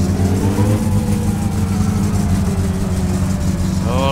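A carbureted engine idles and revs steadily right after carburetor tuning, a continuous close mechanical drone with rising pitch sweeps near the end, no talking over it.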